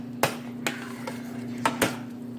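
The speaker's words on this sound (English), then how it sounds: "we're going to go ahead and just stir this around" A metal pot of Jamaican tripe and beans with pickled peppers is stirred, with a spoon knocking the pot in four or five sharp clinks over a low steady hum, and no talking.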